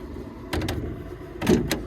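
A heavy machine's cab door being handled during a service on a boom machine, with two bursts of clunking and latching over a steady engine or hydraulic hum nearby.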